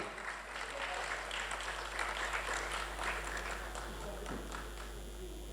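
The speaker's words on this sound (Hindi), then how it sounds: "जोरदार ताली" Applause from an audience at a Bihar Gaurav Samman award ceremony honouring JP movement veterans, a steady, moderately distant clatter of clapping lasting several seconds, with some voices mixed in.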